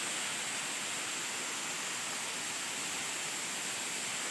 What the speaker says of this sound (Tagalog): Ito yung falls sa baba.